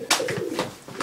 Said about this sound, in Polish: mamy takich gołębi 18 sztuk